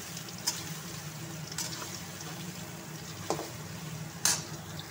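Soybean chunks and potatoes frying together in a pan, a soft steady sizzle underneath with a few scattered clinks and scrapes of stirring, quiet and close with no talking.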